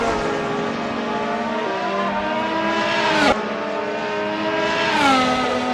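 Race car engine in Assetto Corsa held at steady high revs through corners, with two sharp gear shifts and its harmonic pitch dropping then climbing again, loud, close and continuous with no talking.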